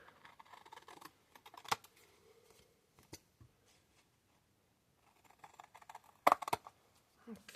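Scissors snipping away fabric scraps for a quilted tropical bird appliqué, a few quiet, sharp crisp cuts spaced out with rustling fabric in between, close and otherwise quiet.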